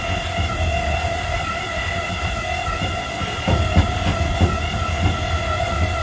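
A tram car rolls along in Wildwood, New Jersey, giving a steady rumbling ride noise with a sustained tonal hum and a few clanks near the end.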